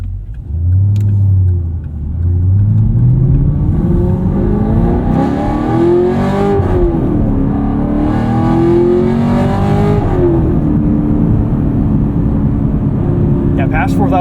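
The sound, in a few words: modified 2022 Camaro SS 1LE V8 engine revving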